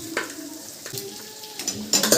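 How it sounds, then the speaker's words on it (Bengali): Pressure-cooked Kadaknath black chicken meat frying in a pan, a soft sizzle broken by stirring scrapes and clanks, with a louder clatter near the end, close and without talk. "এবার দিচ্ছি আমাদের প্রেশার কুকারে গলানো মাংস"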